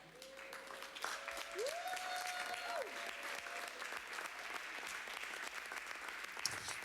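A church congregation standing to applaud during a sermon, with steady, dense clapping that fills the whole stretch and a faint sustained tone sliding beneath it.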